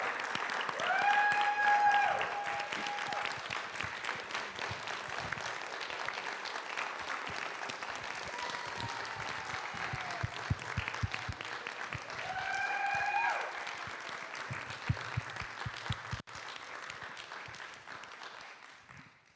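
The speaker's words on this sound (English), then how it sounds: "Please join me in a round of applause for our staff." Sustained audience applause for staff at an annual meeting, a dense even wash of clapping that lasts many seconds and slowly thins near the end.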